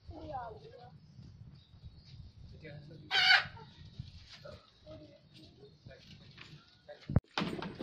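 Free-range native chickens in a farm shed eating feed, with low clucking and scratching throughout, a sharp burst of activity midway and a loud knock near the end, under background talk.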